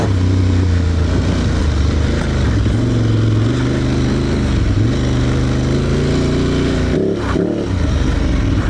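An Aprilia Tuareg Rally motorcycle ridden slowly off-road in first gear gives a continuous loud engine drone with small throttle swells and a brief dip near the end, recorded close up.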